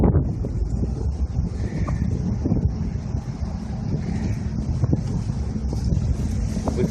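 A stiff headwind blowing across a boat leaving Mississippi River Lock 9, roaring loud and continuous against the microphone with a low rumble and gusting buffets throughout.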